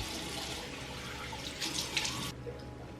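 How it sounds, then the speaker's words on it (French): Lukewarm water runs steadily from a tap into a sink during rinsing, a continuous close splashing hiss that swells briefly and then eases. "Du coup maintenant rincer à l'eau tiède."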